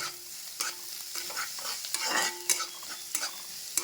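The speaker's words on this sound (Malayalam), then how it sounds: "എന്നിട്ട് അതൊന്ന് എല്ലായിടവും എത്തുന്ന രീതിയിൽ ഇളക്കി യോജിപ്പിക്കുക." A spoon stirs and mixes an amara thoran vegetable stir-fry in a hot pan. There is a steady sizzle with repeated scraping strokes against the metal, close and clear, and no talking.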